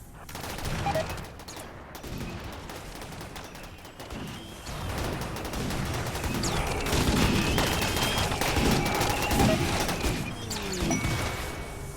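Sniper fire in the colony game RimWorld comes as a dense, continuous barrage of overlapping shots, cracks and impacts under a busy mix of game noise, building and rolling on without pause.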